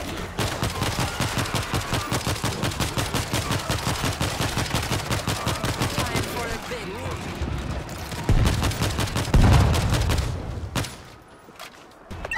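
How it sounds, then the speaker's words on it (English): Rapid bursts of automatic gunfire crackle in quick rhythmic volleys in the video game World War Z, with heavier booms and muffled voices toward the end. "We're hearing gunfire from the river."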